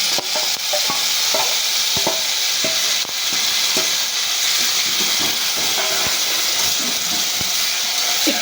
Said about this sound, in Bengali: পেঁয়াজটা আমার ভালো করে ভাজা হয়ে গেছে। এবার আমি বেটে রাখা মশলাটা দিয়ে দিচ্ছি।